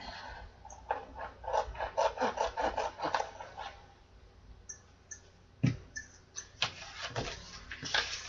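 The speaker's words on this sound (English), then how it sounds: "This is where you just trim around this back one real quick." Craft paper trimmed around the back of a handmade ledger page, close scraping and rasping cuts in a quick run followed by sparse clicks and taps, with no voice.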